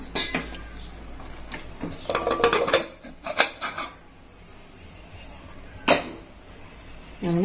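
Metal clanks and scrapes as a cooking pot lid is lifted off boiling lentils and set down, a few sharp clinks of cookware in a quiet kitchen.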